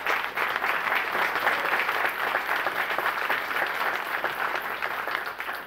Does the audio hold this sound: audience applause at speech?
yes